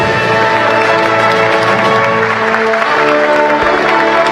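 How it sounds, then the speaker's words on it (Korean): Loud, dense applause and cheering fill a large formal hall as a South Korean president and spouse enter the National Assembly rotunda, with music mixed into the steady crowd roar from start to finish. "여러분들의 박수와 환호성 속에"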